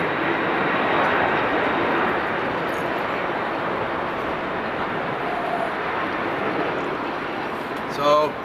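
A large airliner rolls on a full-power takeoff, a broad, steady roar of jet engines held throughout, loud and fairly close, with a brief knock near the end.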